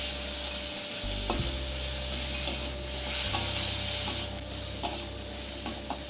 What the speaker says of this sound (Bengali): পেঁয়াজটা একটু ভাজা ভাজা হতে থাকুক